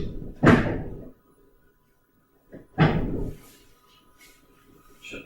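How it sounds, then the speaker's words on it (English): A microwave door is shut twice in a kitchen, each a sharp close thud with a short rattle, about two seconds apart, fairly near and loud with quiet gaps between. "Shut the door."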